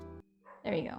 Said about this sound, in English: I apologize if you hear any dogs in the background.